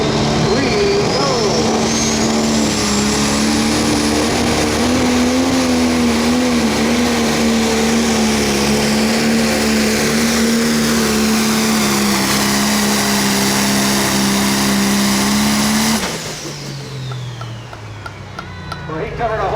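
A pro stock pulling tractor's engine roars loud and sustained at a tractor pull event, a steady high-revving drone that drops off sharply near the end, with an announcer talking over it.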